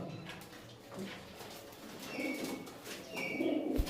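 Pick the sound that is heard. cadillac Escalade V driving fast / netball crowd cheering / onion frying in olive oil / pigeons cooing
pigeons cooing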